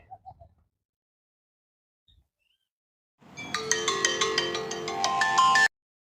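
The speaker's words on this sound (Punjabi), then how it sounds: "ਅਮਨ ਨੂੰ ਵੀ ਫੋਨ ਲਾਏ ਆ ਲਈਏ" A phone ringtone plays a bright repeating melody for a couple of seconds after near silence, then cuts off abruptly.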